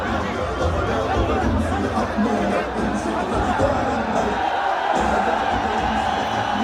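A crowd cheers and chatters for a released prisoner, a dense steady roar of voices with occasional whoops, heard through a played video.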